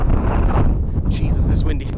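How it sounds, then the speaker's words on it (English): Strong, swirling wind buffets the microphone on an exposed mountainside, a constant loud rumble with gusts, and a voice is faintly mixed in. "Jesus, it's windy."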